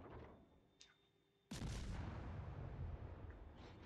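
Warship guns fire at an enemy ship in World of Warships Legends, a sudden loud boom after a quiet stretch, then a sustained rumbling roar that slowly fades.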